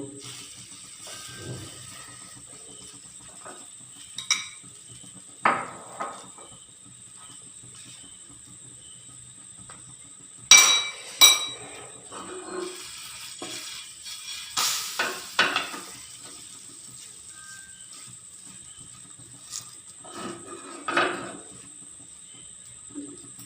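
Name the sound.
snack frying in a pan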